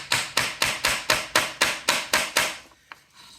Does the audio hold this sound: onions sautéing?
no